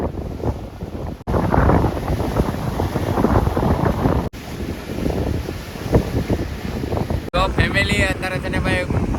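Strong wind at sea during a fishing trip, roaring continuously across the microphone with the wash of rough, swelling waves beneath, loud and steady apart from a few abrupt cuts.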